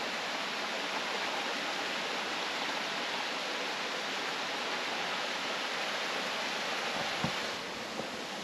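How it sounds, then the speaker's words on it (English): A mountain creek rushes between rocks in Utah hunting country, a loud, steady broadband wash of water that continues unbroken with no voices. "That creek goes between some crazy rocks."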